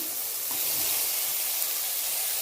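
Steady broadband sizzling hiss of onions and tomatoes sautéing in a pan, continuous and fairly loud throughout with no talking.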